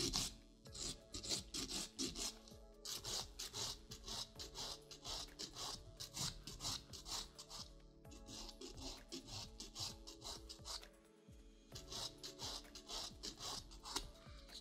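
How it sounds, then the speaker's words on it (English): Rapid rhythmic rasping of a nail file thinning acrylic nail product over the nail bed, close and fairly quiet, in repeated bursts of short back-and-forth strokes with a brief pause between sets. "I'm filing it nice and thin right here on top on the nail bed."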